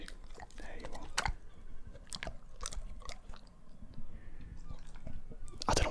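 A dog gnaws and crunches on a treat wrapper up close, with irregular soft bites, crinkles and sharp crackling snaps scattered through quiet low rustling.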